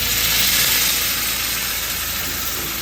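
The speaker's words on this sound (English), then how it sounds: "Just add a little bit of water to it." Water hitting a hot pot on a camp stove during a moose hunt, a loud, steady hiss of steam and sizzle filling the whole moment with no voices.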